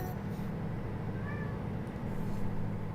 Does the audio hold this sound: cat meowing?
yes